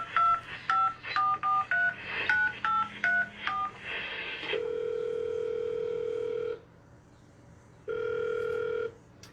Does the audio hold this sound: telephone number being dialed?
yes